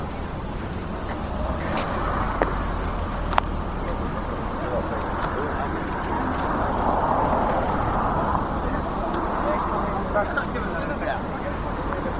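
Cars manoeuvring and turning around on a street in Doncaster, heard as a steady low traffic rumble with occasional sharp clicks and knocks, while people chat nearby throughout.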